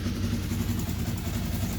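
A turbocharged RZR side-by-side engine idling at factory tune, a steady low rumble with a light mechanical clatter that holds even and continuous throughout.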